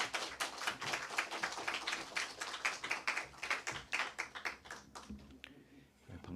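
A church congregation claps to welcome a visiting missionary to the pulpit during a Sunday worship service, lively rhythmic applause that holds steady for several seconds before thinning out and trailing off.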